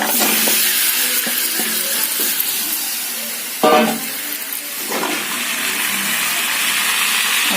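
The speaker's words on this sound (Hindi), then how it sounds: "और फिर अभी हम ये 1/2 किलो चिकन और फ्राई आलू को डाल देंगे।" Half a kilo of chicken and fried potatoes sizzle steadily in a pan, a continuous hiss with a few stirring bumps, including one louder clatter partway through. No one speaks.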